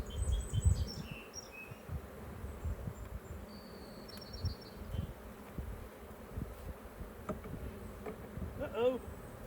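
Bees hum around an opened beehive during a hive inspection, a steady close insect drone with a few louder passes near the microphone.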